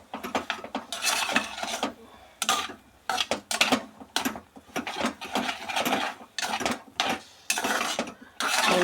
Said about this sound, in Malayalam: ഇത് നമുക്ക് നല്ലതുപോലെ ഇളക്കി ചേർക്കാം.